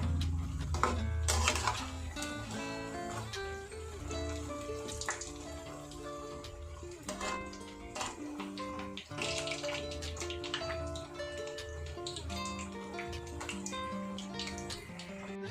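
Gobhi and baigan pakoras deep-frying in oil in a pan while being turned, with a steady dense sizzle and occasional utensil clinks under tonal background sound.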